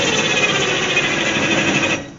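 Power tool running a socket to tighten a bolt while replacing a fuel pump on a Chevy or GMC truck, a loud continuous rattling buzz for about two seconds before cutting off.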